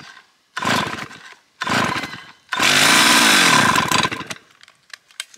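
STIHL 038 chainsaw, choke on, pulled over in two short bursts before it fires and roars at full throttle for a couple of seconds, then drops back to a sputtering idle; loud and close, no talking.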